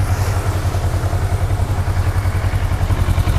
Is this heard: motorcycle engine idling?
yes